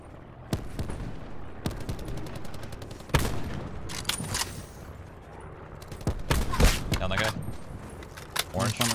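Gunfire in the video game Call of Duty Black Ops 4 battle royale, with bursts of rapid automatic shots and single cracks under several players talking over voice chat.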